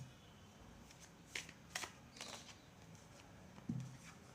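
A deck of tarot cards is shuffled by hand, giving soft riffling and flicking bursts that stand out faintly over a quiet room hiss, with a few sharper snaps near the end.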